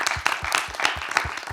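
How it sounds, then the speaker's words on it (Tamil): A crowd claps steadily at a Tamil discussion program on children's anger, the applause a dense, even patter of many hands with small rhythmic surges, continuous and fairly close, with no voices over it. "ஒரு பெரிய கைத்தட்டல் கொடுத்துடலாம்."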